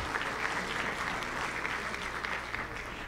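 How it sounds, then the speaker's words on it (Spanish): Steady audience applause fills a plenary session of a regional conference, many hands clapping continuously at close range throughout, with no voices over it. "Un aplauso para Mario Ríos."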